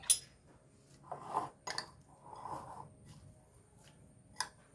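Soft clinks and scrapes of a spoon against a bowl as a mango salad with lemon juice is tossed together, in brief bursts with quiet pauses, close and gentle.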